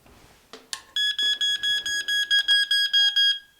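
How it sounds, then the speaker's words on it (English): A dual-sensor water alarm under test sounds a rapid series of loud, shrill electronic beeps, about a dozen regular pulses close up, following a few clicks of handling. "So the alarm works."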